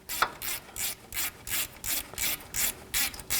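A ratchet wrench tightens a bolt on a lower control arm bracket of a 2007-2014 GMC Sierra 3500 HD pickup, giving about a dozen quick, even rasping clicks in a steady rhythm, close and alone.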